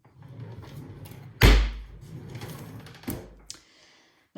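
A craft room drawer slams shut with a sharp, loud knock, followed by a couple of softer wooden clunks and a light rattle as it settles.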